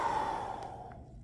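A patient with a tracheostomy takes a single deep breath, a short breathy airflow sound that trails off within about a second.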